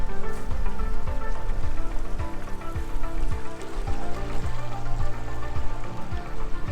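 Small waterfall on Dartmoor trickling and splashing into a little pool, close by, a busy continuous gurgle with bubbly plops and a steady watery rush.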